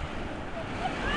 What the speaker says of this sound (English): if the waves will take them back out to the water